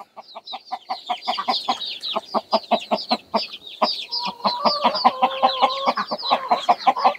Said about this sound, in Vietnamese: Còn đàn gà nhà mình đây thì